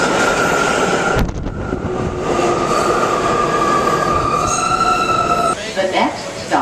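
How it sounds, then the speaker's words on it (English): A subway train rumbles loudly into a New York station, its wheels squealing and a high steady whine rising as it slows; a voice speaks briefly over the din. "Here comes the train."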